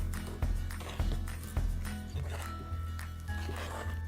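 Mini dairy-free chocolate chips are stirred into thick gluten-free brownie batter in a bowl, giving a series of soft, close, rhythmic thuds and squishy scrapes roughly every half second.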